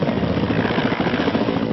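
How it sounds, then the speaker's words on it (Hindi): An Indian Air Force helicopter in flight, with a loud, close, continuous rotor and engine roar that pulses steadily and has no voices over it. "एयरफोर्स का हेलीकॉप्टर उन्हें मंजिल तक पहुंचाता है।"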